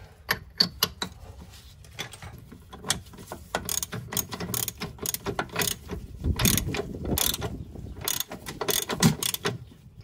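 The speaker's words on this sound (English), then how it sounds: "get my 30mm socket, put that on there, and I'm going to start tightening it down" A ratchet with a 30mm socket tightens the lower ball joint nut on a Ford Transit, giving rapid bursts of close metallic clicking in irregular strokes with short pauses between.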